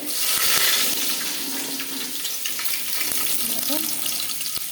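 Whole garam masala spices and bay leaves frying in hot oil, a steady close sizzle and crackle with a few small pops, while someone talks quietly over it.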